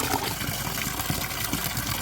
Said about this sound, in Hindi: और सब्जी को ना अच्छे से पानी से धो के अब एक बार सुखाने के लिए रखना है।